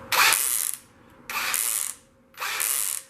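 The front brake of a Team Associated SC10 4x4 RC truck, lifted off the ground, makes three evenly spaced raspy, whirring mechanical bursts close up, each lasting under a second.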